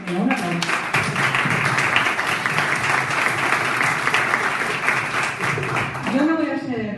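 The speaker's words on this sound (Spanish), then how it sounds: "Venga, un aplauso." An audience applauds a round-table panel on gender violence in Lanzarote with sustained, full clapping for about six seconds. A voice is heard briefly at the start, and clapping tapers off as talk resumes at the end.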